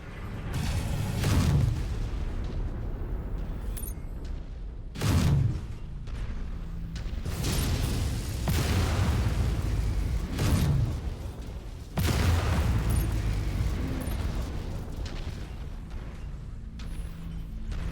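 Missile impacts in the MechWarrior 5 mech combat game, heard as four heavy booming blasts spaced a few seconds apart over a constant loud mechanical rumble.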